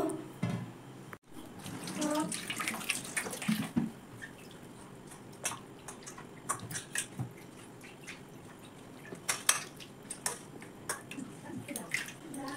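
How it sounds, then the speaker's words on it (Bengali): Water from washing homemade mozzarella cheese curds, poured and splashing in irregular bursts close by, with small drips and clinks between the splashes. "এবার এই জলটা আমি ফেলে দিব।"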